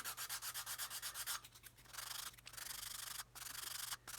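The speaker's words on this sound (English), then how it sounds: "I'm just going to sand away this raised area using a good old coarse stick." Coarse sanding stick rubbed over a raised area on a plastic 1/72 Modelcollect B-52 model kit part: close, rhythmic scratchy back-and-forth strokes, fast and even at first, then in longer passes with brief pauses.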